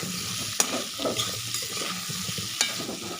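Five kinds of vegetables, potatoes among them, fry in oil while being stirred, giving a steady close sizzle with a few sharp pops and scrapes of the spoon.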